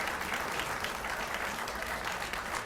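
Sustained, steady applause from a seated audience at a sustainability summit opening session in Hawaii, honoring a title sponsor, Hawaii Energy; dense continuous clapping at even loudness throughout.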